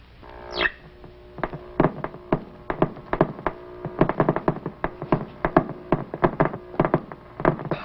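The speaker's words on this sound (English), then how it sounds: "What you are hearing are actual cosmic ray bullets." Steady rapid clicking from a cosmic ray particle detector, dense irregular sharp ticks in quick succession over a faint hum, close and fairly loud, with no talking.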